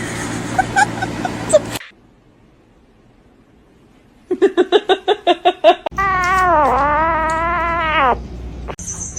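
A cat lets out a long, loud, wavering meow lasting about two seconds, close up and alone. It follows a string of short rhythmic pulses and earlier muffled noise.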